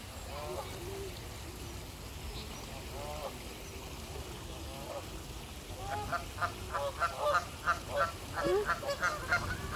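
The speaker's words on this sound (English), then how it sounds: "Some Canada geese, coots of course." Canada geese honk at a park pond in Brockwell Park, London, with scattered calls at first, then a rapid rhythmic run of loud nearby honks amid outdoor ambience.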